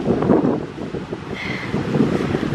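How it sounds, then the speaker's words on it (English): Wind buffets a microphone at a beach lookout on a gusty Memorial Day weekend, a loud continuous low rumble with faint surf underneath. "It is windy up here, as you can probably tell."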